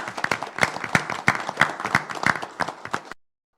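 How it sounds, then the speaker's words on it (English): A small group at a city commission meeting claps for city workers, a brief burst of sharp individual hand claps up close that stops abruptly. "Let's give them a big round of applause for the great work."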